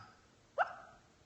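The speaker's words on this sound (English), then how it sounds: "It's my dog having a dream." A sleeping dog gives a single soft, muffled bark-like yip while dreaming, close by in a quiet indoor room, followed by a brief fading whimper.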